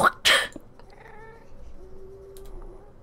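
A Minecraft cat mob lets out a loud, harsh hiss or yowl at the start, followed by faint, quieter mewing and low game ambience.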